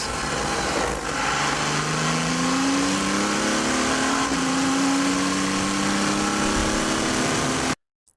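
An Audi R10 TDI V12 turbodiesel race car, heard onboard, powers out of a turn with a loud, steadily rising engine drone that climbs in pitch before cutting off abruptly.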